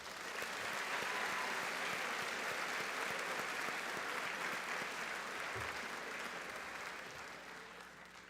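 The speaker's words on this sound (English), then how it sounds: "so let's give us a big round of applause" Graduation audience at a commencement ceremony applauding steadily, a dense wash of many hands clapping that holds strong for several seconds and then gradually tapers, with no voices on top.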